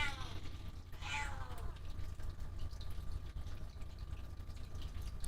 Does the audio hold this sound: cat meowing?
yes